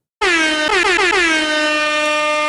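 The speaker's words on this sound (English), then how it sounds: "air horn, bro." Loud air horn blast played as a sound effect during a sports talk show, a single sustained honk with a short stutter of repeated bursts before it holds steady to the end.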